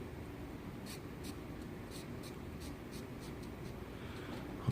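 Pencil drawing a knife design on paper, the graphite scratching in quick, repeated strokes over a steady low background hum, close and fairly quiet with no talking.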